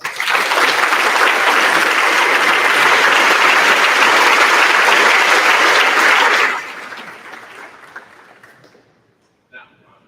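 Loud, sustained applause from the audience at a senior awards night. It fills about six and a half seconds, then drops sharply and tapers off into scattered, fading claps.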